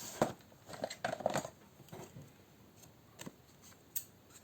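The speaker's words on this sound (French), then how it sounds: "Mes ciseaux." Scissors snipping paper while assembling a baby-boy photo album, a run of short crisp snips clustered in the first second and a half, then a few isolated clicks.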